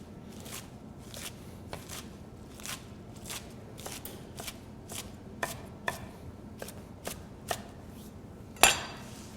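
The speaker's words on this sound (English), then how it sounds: "So basically I just want to do a rough chop on this." A knife rough-chops fresh spinach on a board for three-bean minestrone, a series of sharp, irregular chopping taps close by, ending in a louder rustling clatter, with no voices.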